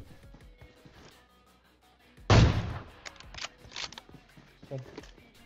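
An AWM sniper rifle fires in the video game PUBG Mobile, one loud, sharp boom followed by bolt-action clicks, heard under someone talking.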